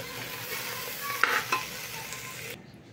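A spoon stirs masala rice in a pressure cooker, mixing washed raw rice with spices and salt: steady sizzle and soft scraping with a couple of sharper scrapes midway, then a quieter ending.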